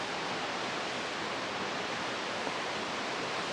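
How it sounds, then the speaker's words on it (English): Steady broadband rushing of a waterfall near a shrine with a Buddha altar in Shimoda, Japan, a constant, even wash of falling water with no breaks, fairly close and alone. "there's a waterfall around over here too"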